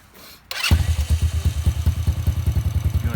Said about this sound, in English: Right now it's idling a little warm, down a little low because it's cold.